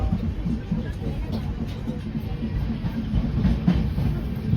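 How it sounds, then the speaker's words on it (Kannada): Sampark Kranti express train running three hours late on the Yeshwantpur to Mangaluru line, diesel-hauled, with a steady low rumble of wheels and carriages rolling by, continuous and fairly loud throughout. "ಸಂಪರ್ಕ ಕ್ರಾಂತಿ ಟ್ರೈನ್ ನೋಡಿ ತ್ರೀ ಅವರ್ಸ್ ಲೇಟ್ ಆಗಿ ಬಂದಿದೆ ಇವತ್ತು"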